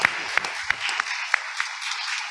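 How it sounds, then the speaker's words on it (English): A conference audience applauds its panelists, a brief burst of clapping with a few distinct sharp claps standing out over a dense, steady patter in a room. "give our panelists a round of applause for"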